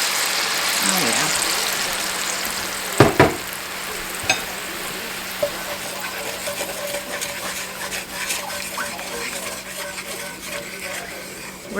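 Coffee sizzles in country ham drippings in a hot pan for red-eye gravy. A continuous crackling fry carries a few sharp clinks and stirring knocks, with people talking at times.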